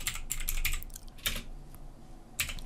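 Quick bursts of keystrokes on a computer keyboard, clattering in short clusters with brief pauses, as a gpupdate command is typed into an administrator command prompt. The typing is close and clear, with no talk.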